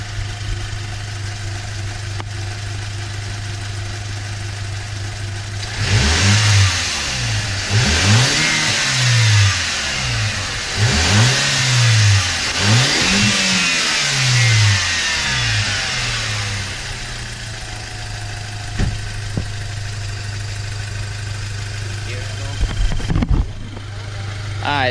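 A warmed-up Audi A4 with a full diverter valve, sitting on ramps, revs several times in close succession. Each loud blip climbs and falls back to a low idle, then fades toward quiet.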